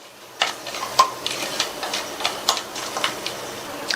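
Whole spices, including fennel seeds, a bay leaf and stone flower, fry in hot oil in a pan, giving a soft, irregular stream of crackles and small pops over a quiet sizzle.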